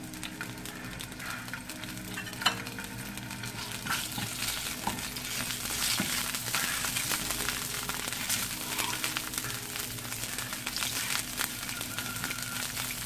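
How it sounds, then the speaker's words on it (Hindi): Eggs frying in a little oil in a frying pan, a steady close crackling sizzle that continues for the whole stretch with soft occasional clinks and no talking. "अब एक फ्राई पैन में हल्का सा तेल डालकर हमने इसमें अंडे को फ्राई कर लेना है।"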